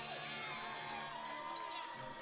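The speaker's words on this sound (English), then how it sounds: "the crowd is still here. It's going crazy" Minor-league baseball crowd at a Lincoln Potters game cheering after a home run, a faint distant sustained roar of cheers and whoops heard across the stadium.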